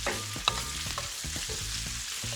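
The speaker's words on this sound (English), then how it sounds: "It's frying, it's sizzling, it sounds like really poppy, toasty goodness happening in your skillet." Steady sizzling and frying of shrimp and nori fried rice in a hot skillet, with crackly pops and intermittent scraping and stirring throughout.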